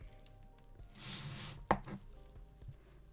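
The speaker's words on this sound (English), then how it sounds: "Chopping butter." Butter is chopped in a home kitchen while cookies are baked. One sharp knife chop lands on a cutting board after a soft scraping rustle, close and fairly quiet, with no talking.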